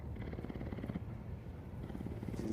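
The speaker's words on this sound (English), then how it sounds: "He's a cat." A cat purrs steadily and continuously at close range, a low rumbling vibration that holds throughout with no talking over it.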